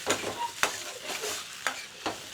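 A spoon stirs tomato puree into chicken makhani in a pan, giving soft scraping strokes with a few sharp clicks against the pan over a low sizzle, close and fairly quiet.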